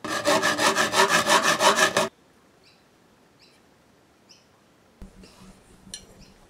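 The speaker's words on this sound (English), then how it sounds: "I'm going to be using a hacksaw for this" A hacksaw cuts through an arrow shaft in quick, even back-and-forth strokes, about a dozen close rhythmic rasps over two seconds, then near silence with faint ticks and a soft clatter.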